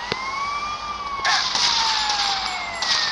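A police car siren wails in GTA Vice City, a clear two-tone rising and falling whine running through the whole stretch, with bursts of game noise layered on top partway through.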